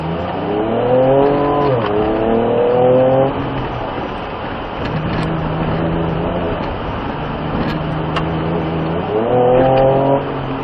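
A Ford Ranger Raptor's engine roars and revs up and down as it speeds around a driving course, shifting pitch with each acceleration, loud and steady throughout.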